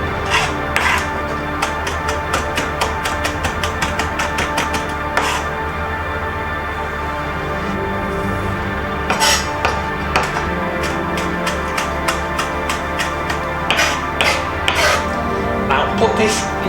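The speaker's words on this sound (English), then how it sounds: "now we need to chop our ginger and garlic up." A knife chops ginger and garlic on a chopping board in a kitchen, giving irregular bursts of sharp taps close by, with a voice speaking at times between them.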